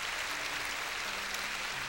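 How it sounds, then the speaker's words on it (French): A church congregation applauds for Jesus during a worship service, a faint, steady wash of crowd clapping heard from a distance. "Et pour Jésus, faites de beaux applaudissements."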